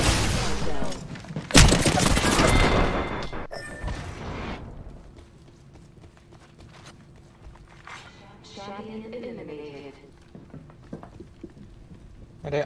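Bursts of Apex Legends gunfire hit loud and close in the first few seconds, then the game sounds drop to quieter clanks and thuds while players talk.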